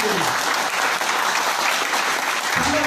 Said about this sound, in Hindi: वाह, शानदार वाली ताली है आपके लिए।